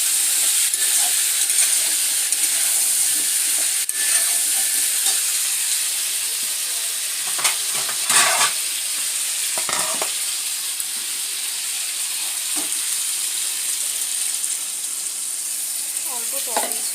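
Vegetables frying in a pan on the stove as a little water is poured in, giving a steady close sizzle and hiss with a few brief louder bursts, no voices.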